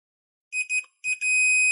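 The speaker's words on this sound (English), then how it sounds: "I'm going to use my continuity tester again on my digital multimeter, clip the leads together. You can hear the beep." Electronic beeps from a multimeter continuity tester: two short chirps, a brief pause, then a short beep and a sustained tone, clear and close.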